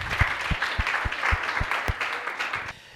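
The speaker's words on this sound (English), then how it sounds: "Warm round of an applause." Applause from an audience at a book discussion event, moderately loud clapping with a few sharp claps standing out, fading quickly near the end.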